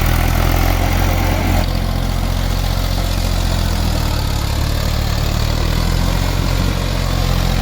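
A tractor engine runs in a papaya field, close and loud. The diesel drone is steady and unbroken throughout, with no voices over it.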